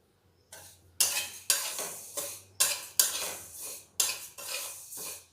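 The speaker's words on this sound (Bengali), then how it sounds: "ততক্ষণ আমি এই মুগ ডালটা নাড়াচাড়া করে নেব" A spoon scrapes moong dal around a dry pan in about eight brisk, evenly spaced strokes, each a close, gritty rasp with a light sizzle, while the dal roasts for winter vegetarian khichuri.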